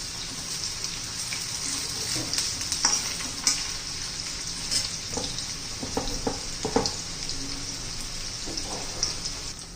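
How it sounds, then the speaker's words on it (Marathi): Paneer pieces shallow-frying in oil for a hotel-style paneer masala give a continuous crackling sizzle, dotted with soft spatters and occasional utensil knocks close to the pan, with no voices. "छान असं मी पनीरचे पीस तळून घेतलेले आहे"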